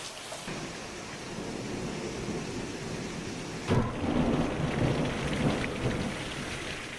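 A Texas thunderstorm pours steady, heavy rain that hisses continuously, and a loud thunderclap bursts partway through before rumbling on under the downpour.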